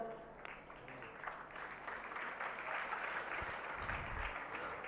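An audience at a Jain religious discourse claps in a steady, moderately faint patter of many hands, continuing evenly throughout without a clear end.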